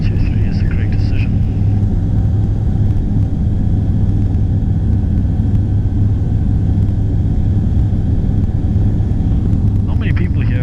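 A light aircraft's engine drones steadily at an airport before climb out, a constant low rumble heard from inside the cabin, with a voice talking over it.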